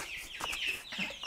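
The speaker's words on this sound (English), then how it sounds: "And we're going to feed the chickens." Backyard homestead chickens cluck in a few short, close bursts while being fed kitchen scraps, with no talking over them.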